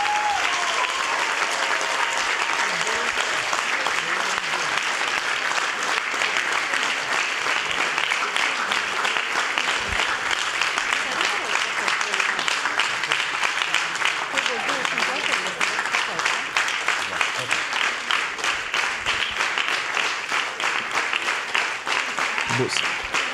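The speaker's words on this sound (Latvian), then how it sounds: "Tā kā ar aplausiem mēs sveicam." An audience at a celebration of children's performances and an ordination claps steadily and loudly, a dense, unbroken wash of applause that keeps going for over twenty seconds.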